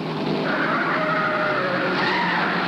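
A stock race car skids during a 1951 NASCAR race at Langhorne, a loud sustained squealing slide that holds steady for the whole moment, with no distinct impact heard.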